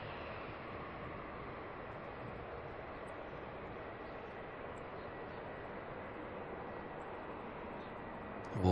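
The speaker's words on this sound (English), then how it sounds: "let's quickly get the little Dashi" A De Havilland Dash 8 turboprop at Auckland Airport gives a steady, fairly faint engine drone, continuous and distant, with broadband noise throughout and no talk.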